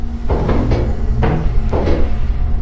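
Door in the video game Lethal Company, heard as several loud, close thuds and rattles as it is tried or opened and shut, over steady background noise with no talking.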